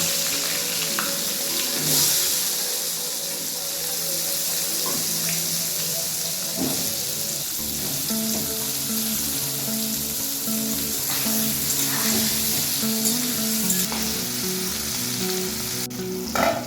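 Salted, turmeric-dusted potatoes fry in mustard oil with a loud, continuous sizzle and crackle. Occasional light clinks and stirring sounds come through, and nobody speaks.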